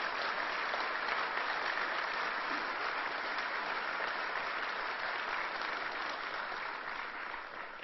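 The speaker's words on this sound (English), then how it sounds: "Let's give the mayor and Ray a round of applause for their good work" An audience gives a round of applause for a mayor at Proctors, a dense, steady wash of many hands clapping that holds at an even level and only eases slightly near the end.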